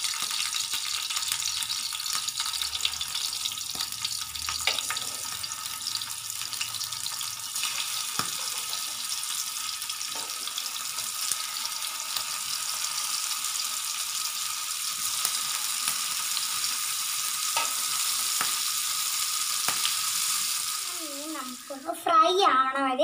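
Fish frying in a pan with chilli and salt gives a steady broadband sizzle throughout, with faint background voices and a brief burst of other sound near the end.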